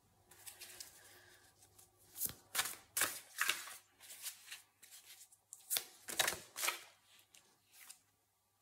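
Tarot cards being shuffled and drawn close up, a soft series of riffling, flicking and sliding card sounds in uneven bursts against a quiet background.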